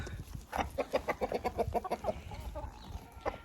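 Several hens on a small farm cluck in a quick run of short, close calls, then trail off into quieter scattered clucks.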